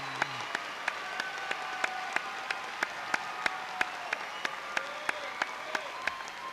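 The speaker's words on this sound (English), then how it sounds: "everyone give them a big round of applause for everything they've done" Sustained applause from a large crowd at a college graduation ceremony, steady and even, with a few sharper individual claps standing out.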